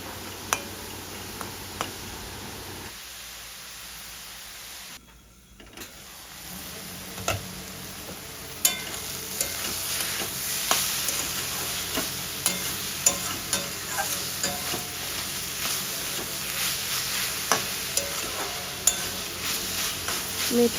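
Fenugreek greens frying in a pan as their released water cooks off, a soft steady sizzle broken by repeated light ticks and scrapes of stirring, close and moderate, with a short quiet gap early on.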